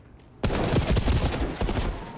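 Gunfire in a Call of Duty League match, a sudden loud burst of rapid shots after a brief quiet lead-in, several close sharp cracks tumbling together like a fusillade.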